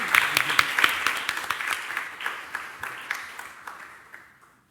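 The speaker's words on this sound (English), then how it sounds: "we all owe these three ladies and gentlemen a big round of applause" An audience claps steadily, the applause strongest at the start and gradually thinning out to a few scattered claps before fading away.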